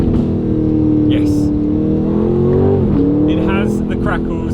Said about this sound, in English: I wonder if there's any crackles on the downshift